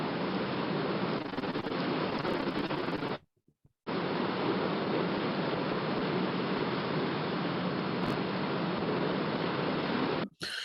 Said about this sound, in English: The noise you hear is the noise of our boat.